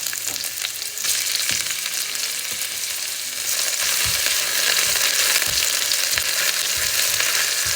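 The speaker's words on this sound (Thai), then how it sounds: "ผัดเห็ดหอมให้หอมก่อนนะ" Shiitake mushrooms stir-fry in a hot pan with a loud, dense, continuous sizzle that swells slightly midway, broken by soft scraping and stirring sounds.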